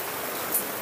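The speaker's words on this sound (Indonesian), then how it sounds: "Ini adalah hujan." Steady rain falls outdoors onto a catfish pond, a dense even hiss of drops with no breaks across the short moment.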